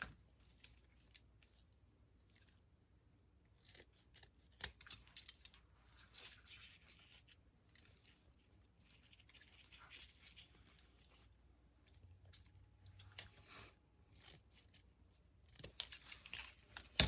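Scissors snipping ribbon while making a bow, faint quiet clicks and small cuts scattered irregularly over a near-silent background.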